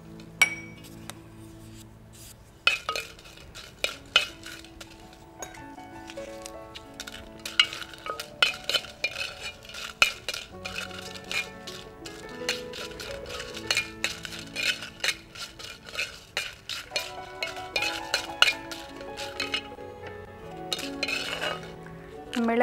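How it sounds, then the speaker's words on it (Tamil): Dried red chillies roast in a pan, a light dry sizzle under repeated sharp metallic clinks and scrapes of a spoon stirring against the pan, the taps coming in irregular quick bursts. "நம்ம இப்போ அந்த மிளகாயை வறுத்துக்கலாம்."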